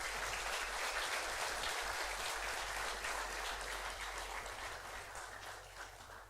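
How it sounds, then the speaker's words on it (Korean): A church congregation claps for honorary deaconesses at an ordination thanksgiving service, a steady, fairly faint wash of applause that tapers gently toward the end over a low background hum. "우리 명예권사님들 한번 뜨겁게 박수 한번"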